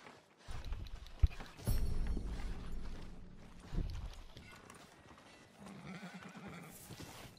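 A horse in the video game Red Dead Redemption 2 clops its hooves in short, uneven bursts at close range, with a clear whinny or snort in between, and faint game mechanisms behind.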